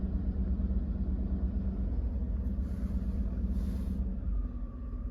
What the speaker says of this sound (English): now it's back to regular engine speed controlled by the vehicle computer